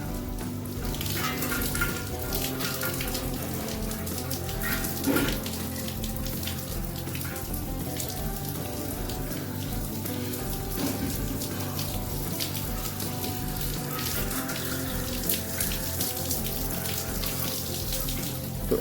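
A steady, hissing spray of water washes down an indoor split air conditioner unit. The splashing runs continuously at a constant level for nearly twenty seconds, close by, with no voices.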